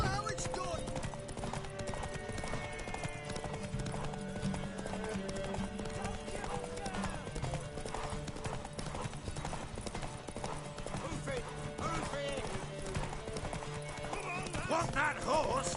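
Horse hooves clip-clop with occasional neighing in The Witcher 3, steady and continuous beneath game music and voices talking over it.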